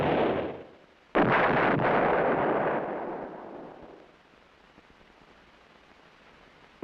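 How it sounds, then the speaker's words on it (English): A towed 8-inch howitzer fires a single loud, booming blast after the tail of an earlier report fades. A long rumbling decay follows before it settles into faint background noise. "One battery of towed 8-inch howitzers is included in the Infantry Division artillery."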